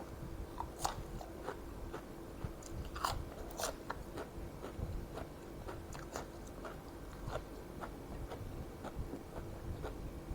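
Repeated crisp crunches and bites while someone eats crunchy fried frog, close and steady over about ten seconds with no talking.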